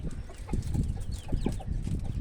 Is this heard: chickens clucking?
yes